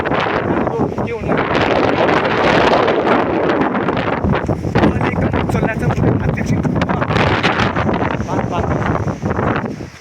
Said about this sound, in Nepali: आज भोलि एकदम भयङ्कर हावा चलिरहेको छ